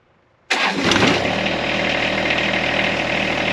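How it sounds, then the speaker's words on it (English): A John Deere 1025R compact tractor engine starts abruptly out of near silence with a loud cranking catch, then settles into a steady, close, rumbling idle with no talk. "So next step is to try the tractor out."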